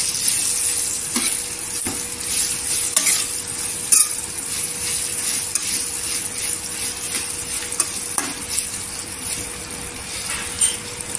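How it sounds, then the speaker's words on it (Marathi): A spoon stirs and mixes a boiled lemon and chili mixture in a pot, giving soft scraping and clinking taps over a faint continuous hiss, close and fairly quiet throughout. "आता छान आपण मिक्स करून घ्यायची"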